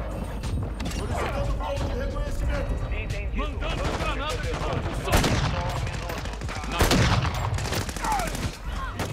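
Rapid bursts of automatic gunfire and sniper shots crackle through a Call of Duty Modern Warfare 2 match on the Shipment map, dense and continuous, with a player talking excitedly over the combat.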